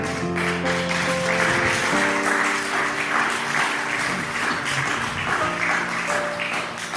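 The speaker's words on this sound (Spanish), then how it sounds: "Denle un aplauso al Señor." A church congregation claps steadily for several seconds, a dense wash of applause with a sustained musical tone underneath.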